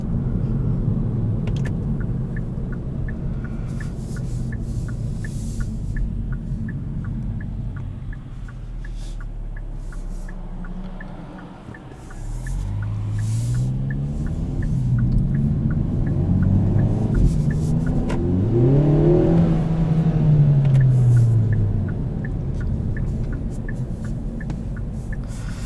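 Engine of a 2021 Kia Forte GT with a seven-speed dual-clutch automatic, heard from inside the cabin as a steady low drone that climbs and drops through several quick gear changes, rising to a louder pull near the end.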